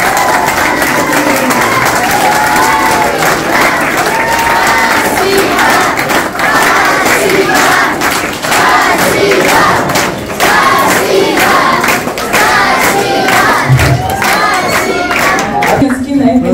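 A large crowd at a school celebration applauds and cheers, dense continuous clapping and shouting filling the space loudly for the whole stretch, with a few thumps, no clear speech.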